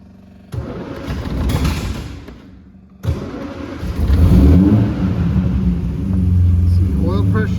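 Cold start of a 1958 Austin Healey 100 6 BN4: the starter cranks briefly, the engine catches with a loud burst and settles into a steady, rumbling idle with occasional revs.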